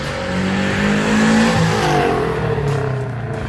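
A Subaru BRZ with a 1320 Performance dual resonated front pipe accelerates past, its engine note rising as it approaches, peaking loudly, then dropping away briefly as the car passes.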